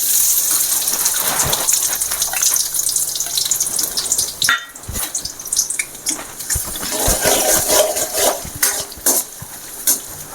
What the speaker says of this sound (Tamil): எண்ணெய் நல்லா சூடாகிடுச்சு நம்ம வெங்காயம் போட்டுக்கலாம்